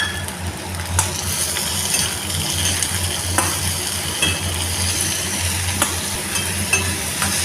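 Onion and tomato sauté in a pan for a brinjal gravy, with a continuous close sizzle and repeated scraping stirs, a sharp clink sounding every few seconds, and no voices.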